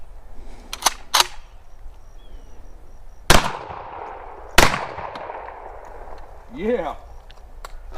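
Gunshots are fired into a plywood and sheetrock wall, giving four sharp, loud reports in two pairs a few seconds apart, with a short voice breaking in near the end.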